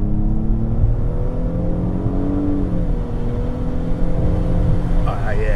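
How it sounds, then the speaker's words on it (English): A 2017 Nissan Maxima Platinum engine pulls hard under acceleration, a steady loud drone with rising and shifting tones, heard from inside the car with constant road and engine noise throughout. "Let's see how much power this thing got."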